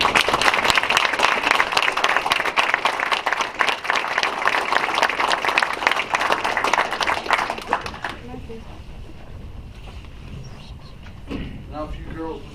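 Sustained applause from a council meeting audience honouring a 7th grade girls basketball team, loud and dense for about eight seconds before fading out, with quieter voices and room murmur following.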